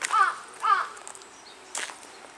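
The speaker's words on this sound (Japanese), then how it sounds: "カラスがなんか文句言ってます" Crows caw from high overhead above a steep stepped trail at the Chihaya castle ruins. Two harsh caws come close together, followed by a quieter, briefer call.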